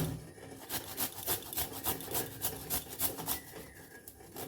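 A small piece of fresh ginger is rubbed against a grater in a kitchen, a quick series of close, soft rasping strokes in a steady rhythm.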